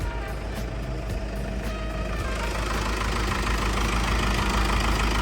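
A Komatsu WA100-3 wheel loader with a Komatsu 4D102 engine idles close by, a steady, loud, low diesel rumble with an even mechanical knock that holds unchanged throughout.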